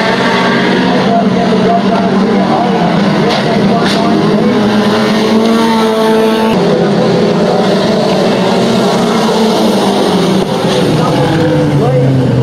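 Race cars roar around a circuit in a racing and rally crash compilation, their high engine notes rising and falling continuously and loudly under an excited commentator's voice.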